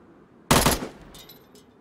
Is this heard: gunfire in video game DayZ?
yes